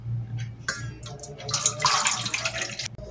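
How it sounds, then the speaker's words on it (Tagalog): Water poured into a cooking pot while making salmon head sinigang, a Filipino sour soup, a broad splashing stream that swells in the middle and cuts off near the end, close and fairly loud over a low steady hum. "Lagay tayo tubig."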